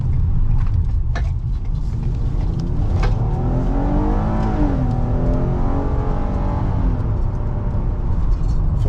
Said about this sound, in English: Let's execute a U-turn.